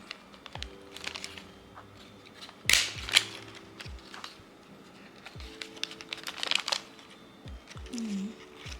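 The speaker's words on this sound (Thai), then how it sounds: "แล้วเราก็ใช้แม็ก เย็บเอา" A handheld stapler fastens a handmade gift bag, producing a series of sharp close clicks and crunches spaced irregularly, with a couple of louder snaps near the middle and light handling rustle between.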